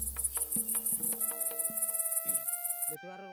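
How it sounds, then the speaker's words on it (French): Grasshoppers chirp in a village setting, a steady high-pitched insect trill that runs throughout, mixed with a busy, cartoonish soundtrack of other tones and effects that cut off near the end. "C'est le pays des sauterelles!"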